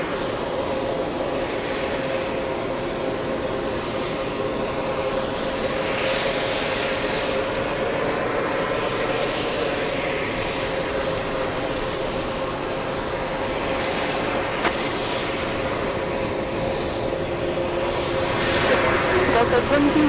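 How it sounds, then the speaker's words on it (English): An Airbus A380's auxiliary power unit runs at an airport, giving a steady, loud whine and hum that holds for the whole stretch and swells slightly near the end, with voices talking over it. "APU starting up on the A380. That's why it's getting loud. That is the APU."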